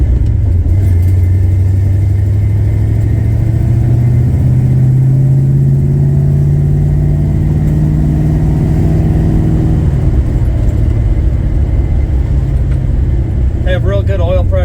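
A big block 383 Plymouth Barracuda engine, swapped in for a slant six, runs loud and close with a steady low rumble and slight rev changes, while a voice talks over it.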